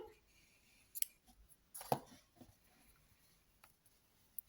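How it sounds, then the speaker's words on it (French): Scissors snip through crochet yarn at the end of a round on a crocheted mandala, giving a couple of quiet, crisp cuts close by with faint handling between them and no talking. "Je peux couper mon fil"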